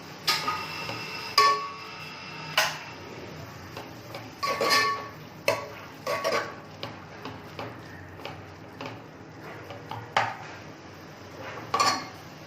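Light clinks and taps of a utensil against a pan at irregular intervals as a salted, spiced mixture for kulith pithla and red amaranth greens is fried, with a faint sizzle underneath.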